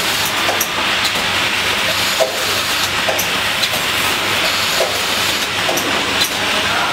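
A powder packaging machine runs a test filling 360-gram portions of flour powder, giving a loud continuous mechanical whir and hiss with regular light clicks and knocks repeating throughout.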